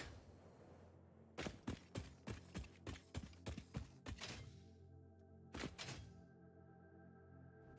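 Rapid series of sharp knocking thuds, about a dozen hits in a steady rhythm, then a brief pause and two more strikes, like a pickaxe chipping blocks.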